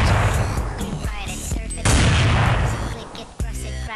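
AWP sniper rifle no-scope shots in Counter-Strike, heard as several loud, sharp gunfire bursts in close succession with a dense, continuous game soundscape filling the gaps between them.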